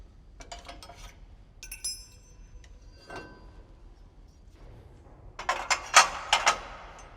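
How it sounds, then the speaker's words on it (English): The knife bed slides out and its knives are unlocked on a Hesston 2200 series large square baler: faint scrapes and clicks at first, then a quick run of louder metallic clanks and clinks near the end. "slide the knife bed out, unlock the knives, and then use the conveniently stored blanks over here"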